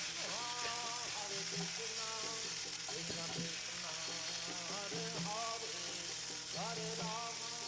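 Chopped tomatoes go into hot oil tempered with whole cumin and chili while soya chaap is cooked, giving a close, steady sizzle that continues without a break under melodic background music.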